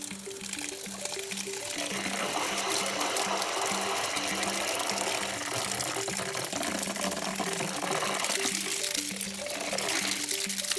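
Water runs steadily from a repaired anti-freeze sillcock outdoors, a continuous broadband rush with a faint rhythmic hum beneath, holding at an even level throughout.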